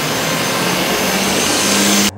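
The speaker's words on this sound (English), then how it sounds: "All I have running now is the heat gun on medium." A heat gun set to medium runs as a steady, loud, close whooshing blower with a faint hum, continuous until it cuts off at the end.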